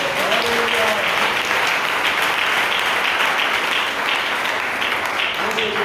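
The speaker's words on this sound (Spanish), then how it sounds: "Denle un aplauso al Señor." A church congregation breaks into loud, sustained applause filling the room, with a voice briefly audible at the start and end.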